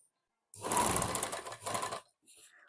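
A sewing machine stitches along a fabric edge while joining palazzo pant panels, running in two close bursts of rapid mechanical chatter separated by a brief pause, with a little quiet noise afterward.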